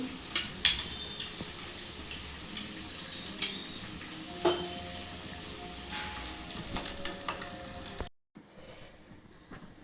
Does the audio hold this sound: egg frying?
yes